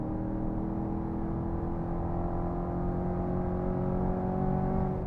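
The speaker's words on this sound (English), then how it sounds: "Man, the sound is just insane. That's only possible with this much engine displacement." Large-displacement engine of an American supercar at full throttle, a steady loud droning roar with layered harmonics held throughout, no voices.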